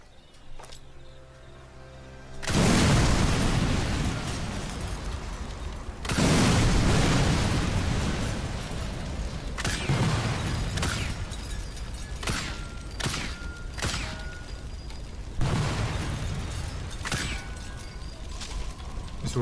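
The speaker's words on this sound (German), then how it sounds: "Explosionen sind eine schöne Sache." Repeated explosions in the World War II sniper game Sniper Elite 4, with heavy booming bursts at the start and several more that follow, loud and close, then a rumbling tail mixed with crackling debris.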